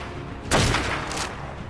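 A single loud gunshot from a gun fired at a Carnotaurus in ARK, sharp and close, followed by a short rumbling tail over quiet background noise.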